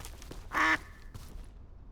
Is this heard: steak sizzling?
no